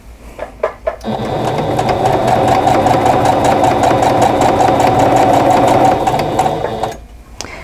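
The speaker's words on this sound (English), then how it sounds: "So I'm just going to get a sashing and a cornerstone and just sew those end to end." A sewing machine runs steadily for about five seconds, stitching a quilt sashing strip and cornerstone end to end for a Christmas quilt top, loud and close, with brief handling clicks before and after and no talk.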